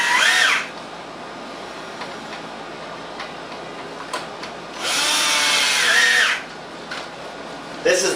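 Ozone generator with a 1.5 horsepower blower, heard as two loud hissing, rushing bursts close by, one at the start and a longer one later, separated by a quieter steady hum with faint ticks.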